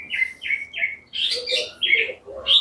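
A white-rumped shama (murai batu) sings close by, a run of repeated clear whistled notes followed by more varied, rising phrases, with soft background noise.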